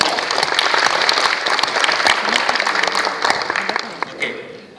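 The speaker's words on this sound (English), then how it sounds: "Give them a clap." Loud, dense applause from a conference audience at an engineering software event, many hands clapping together in a sustained wash that tapers slightly toward the end, with some voices underneath.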